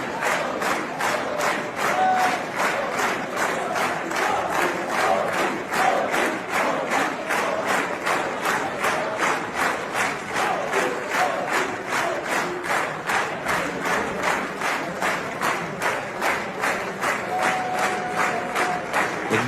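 Members of the Israeli parliament applauding Indian Prime Minister Narendra Modi, a long, steady burst of many hands clapping in a regular rhythmic beat, sustained and even throughout with a faint murmur of voices beneath.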